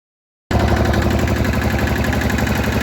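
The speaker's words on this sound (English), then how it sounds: "we're going to boot up the engine and give her a little spin" A boat engine with an exhaust leak abruptly catches after a moment of silence and runs loudly with a fast, steady, rattling chug. There is no talking.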